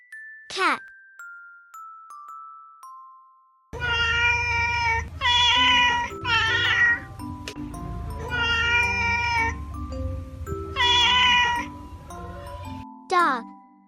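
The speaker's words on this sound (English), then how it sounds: "Cat, cat." Several drawn-out domestic cat meows with a harmonic, wavering tone, repeated in a cluster and standing alone in the foreground, bracketed by short bright chime-like tones.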